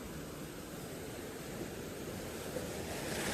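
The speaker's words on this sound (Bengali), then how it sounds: "আর আওয়াজটা জাস্ট শোনো, ন্যাচারাল ঝর্ণার আওয়াজটা" A natural waterfall in the hills near Kalimpong at dusk, a steady broadband rush of falling water, faint and continuous with no voices.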